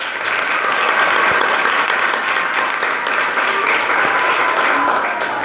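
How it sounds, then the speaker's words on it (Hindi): A classroom of schoolchildren at a government high school bursts into steady, dense applause that carries on evenly for several seconds at close range. "तालियां।"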